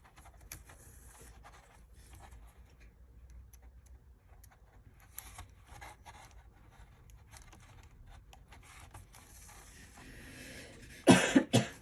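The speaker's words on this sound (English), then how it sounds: "I will make a new video if this coughing continues." Mostly quiet with faint small ticks and taps, then a sudden loud burst of coughing near the end, close to the microphone.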